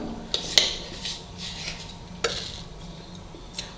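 Sarson da saag is mashed and stirred in a pot, with a few sharp clinks of a utensil against the metal rim over a low bubbling hiss, sparse knocks spread across a quiet close background.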